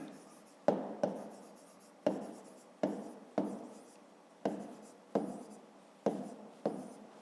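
A pen or pencil writes out a fifth-grade math problem on paper, a series of close, distinct strokes and taps at an irregular pace, each followed by a short scratching trail.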